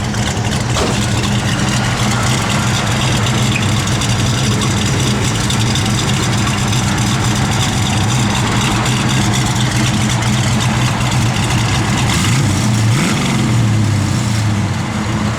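A 1970 Ford Mustang Mach 1 idling, its engine giving a steady, loud, deep rumble that continues unbroken for about fifteen seconds with no speech over it.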